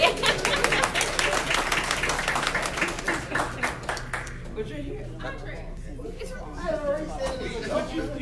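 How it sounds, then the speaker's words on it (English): People at a county council meeting applaud, sharp dense clapping that fades after about four seconds into chatter, chuckles and people talking nearby. "let's give her a round of applause"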